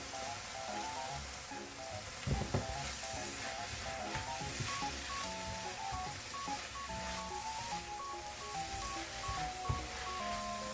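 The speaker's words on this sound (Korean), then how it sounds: "시간에 여유를 두고 김치를 잘 볶아주셔야 돼요" Kimchi for kimchi fried rice sizzles steadily in a hot pan while being stir-fried, a continuous dense crackle with occasional sharper pops, close and even throughout with no talk.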